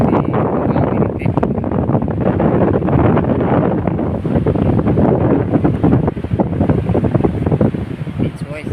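Sea waves wash onto a rocky beach, a steady loud roar of surf with strong wind buffeting the microphone throughout, unbroken from start to finish.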